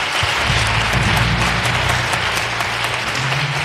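A crowd applauding, a steady wash of many hands clapping together without pause, loud and sustained.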